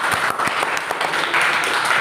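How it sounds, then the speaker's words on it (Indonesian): A classroom of students claps in brief, fairly loud applause, a quick patter of overlapping hand claps heard up close. "Oke, terima kasih, tepuk tangan."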